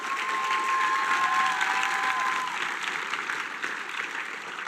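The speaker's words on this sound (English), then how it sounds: "put your hands together" Steady audience applause with some cheering fills an awards ceremony hall for a school F1 engineering competition's national finals, dense and sustained, with a brief tonal whistle-like streak early on before the clapping slowly thins.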